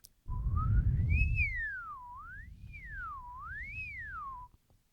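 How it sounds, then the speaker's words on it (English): A clear whistled tone glides smoothly up and down through several notes in wavering swoops, close and alone with some low breathy rumble at the start. "You can try whistling a few different notes and see what happens with your tongue."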